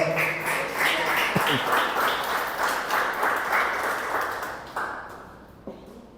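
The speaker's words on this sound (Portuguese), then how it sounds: "Dê um forte aplauso a Jesus por isso" A church congregation applauding during a sermon, broad dense clapping that stays steady before thinning and fading out near the end.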